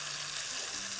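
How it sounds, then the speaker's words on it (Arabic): Meat frying in a pan with black pepper, a steady, soft, close sizzle that stays even for the whole short stretch with no talking. "لما الواحد يحمر لحمه"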